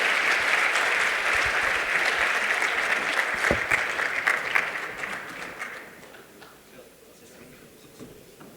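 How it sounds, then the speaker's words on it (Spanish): Audience applause for a panel of speakers and their moderator at a conference session on the future of the electricity sector, loud and sustained at first, then thinning and fading to scattered claps. "un aplauso por favor para nuestros brillantes panelistas"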